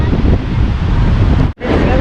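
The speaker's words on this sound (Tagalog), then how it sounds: "Ang lalaki ng alon" Big ocean waves roll in on a windy coast in Isabela, a loud roaring wash buffeted by heavy wind noise on the microphone, cutting out abruptly for a moment near the end.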